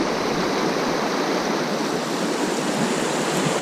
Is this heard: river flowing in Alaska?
yes